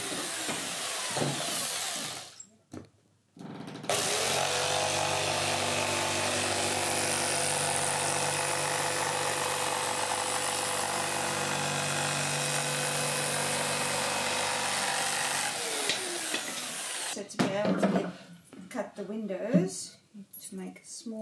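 A power drill bores a small starter hole in wood for a jigsaw blade while building a doll's house. The drill whines loud and steady for roughly thirteen seconds, with shorter bursts of shop noise before and after.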